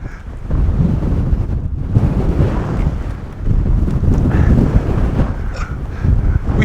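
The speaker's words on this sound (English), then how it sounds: "it's quite windy" Strong wind buffeting a microphone on a hill summit in the North Pennines, heavy low rumbling gusts that surge and ease in waves, loud and continuous with no voices.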